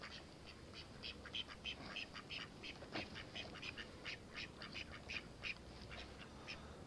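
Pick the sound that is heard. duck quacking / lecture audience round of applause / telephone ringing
duck quacking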